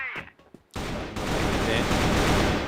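Gunfire during a Counter-Strike esports grand final match: after a few quiet moments, a dense, loud burst of rapid shots sets in and keeps going without a break.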